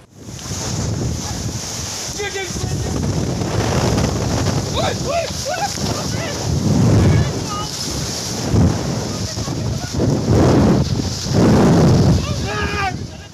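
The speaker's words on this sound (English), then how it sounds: "Raging floodwaters rose rapidly and swept away another bridge in Sumatra, Indonesia" Loud rushing floodwater roars continuously in Sumatra, Indonesia, with wind buffeting the microphone, while excited voices and shouts break through the torrent.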